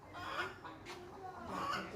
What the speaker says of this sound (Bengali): দেখো তো বাইরে অবস্থা কক কক ডাকছে